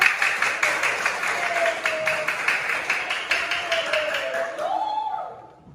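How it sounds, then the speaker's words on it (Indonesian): A classroom of schoolchildren applauds together, a steady dense patter of many small hands clapping for several seconds before it fades out, with a voice speaking briefly over it. "kasih tepuk tangan dulu buat"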